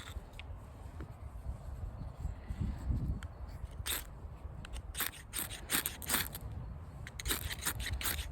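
A steel striker hits rock for sparks, sharp metallic scraping strikes repeating irregularly, several in quick bursts, close up against a low outdoor rumble in the woods.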